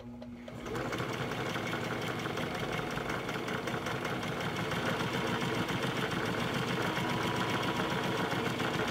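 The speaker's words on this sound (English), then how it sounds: "I'm sewing the seams down because I like a flat surface" A sewing machine sewing seams down on fabric starts up after a brief quiet moment, then runs in a fast, steady, close mechanical whir with rapid needle clatter until the end.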